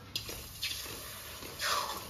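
Water poured into a pan of freshly fried coconut pieces in a rural village kitchen, as coconut naru are made; a couple of brief faint splashes come before a longer soft pour, with no talking.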